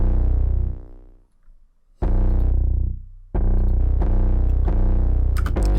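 Layered 808 bass in an FL Studio dark trap beat, topped with a high-pitched crunchy sample; loud distorted low booms that swell, decay, then return with gritty crackle riding on top, no voices.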